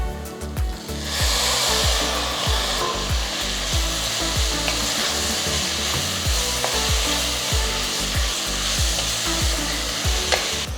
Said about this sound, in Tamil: இதில் நான் ஒரு 3 மீடியம் சைஸ் தக்காளியை ஜஸ்ட் ரஃப்பாக கட் பண்ணி சேர்க்குறேன்.